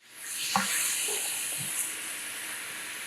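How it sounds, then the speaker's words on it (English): Onions and peppers sizzling in a pan for a vegan red curry with tofu, a steady loud frying hiss that holds throughout, with a couple of faint clinks from cooking utensils. "Now that my onions are translucent, I'm going to add the peppers. I'm going to cook these down for about 2 or 3 minutes or so."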